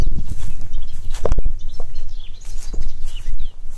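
Birds chirp in a forest where people are searching for bonsai material, scattered short calls over rustling and a few close knocks, with no voices.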